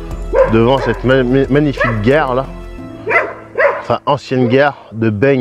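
A dog barks and yips repeatedly near a train station while someone talks over it, the barks coming in bursts under and between his speech.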